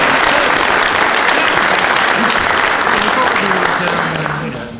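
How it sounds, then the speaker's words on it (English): Awards-ceremony audience giving a warm round of applause for the venue and catering staff, loud and full for several seconds before tapering off at the close, with a voice faintly underneath. "Can we give them a nice round of applause?"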